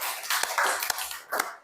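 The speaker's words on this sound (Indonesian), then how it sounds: "Semuanya tepuk tangan dulu." A classroom of students clapping their hands together: three sharp, separate claps at steady intervals over a busy, noisy room.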